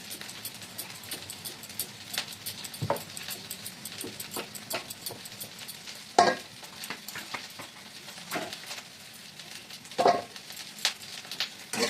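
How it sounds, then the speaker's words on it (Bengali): Khuri frying in a pan in a hot home kitchen, a continuous soft sizzle broken by occasional stirring scrapes and clinks, close and fairly quiet, with no one talking. "খুঁড়ি ভাজা হচ্ছে"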